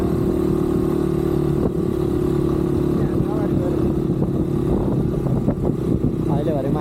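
Six motorbikes ride together along a mountain road in Khotang, Nepal, a steady engine drone with clatter and rising revs throughout, loud and continuous, with people talking over it.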